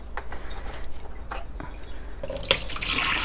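Rinse water from hand-washing alpaca fiber drips and splashes as it is emptied out, with scattered drops building into a fuller pouring rush at the end.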